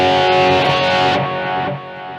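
Distorted electric guitar played through a delay effect with the reverb switched off, a sustained dense chord ringing loudly and then thinning out as the repeats fade.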